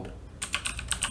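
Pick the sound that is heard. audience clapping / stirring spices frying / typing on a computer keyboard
typing on a computer keyboard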